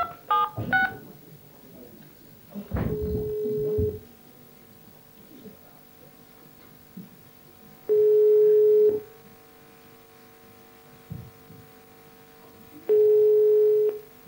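A telephone dial tone sounds as steady, loud, hum-like tones in three separate stretches of about a second each, after a burst of keypad dialing beeps and muffled handling noise at the start.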